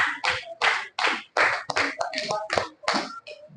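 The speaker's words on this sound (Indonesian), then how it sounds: "tepuk tangan untuk kelompok" Students in a classroom clap for a presenting group in a quick, patterned run of loud bursts with short pauses between them, lasting a few seconds.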